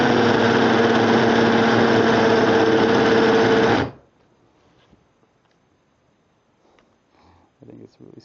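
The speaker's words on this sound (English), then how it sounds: "Okay, let's set it on 2 now. See if it rotates any faster." An 18-volt cordless half-inch variable-speed hammer drill whirs loudly and steadily at speed setting 2 for about four seconds, then cuts off, leaving quiet room noise and faint movement.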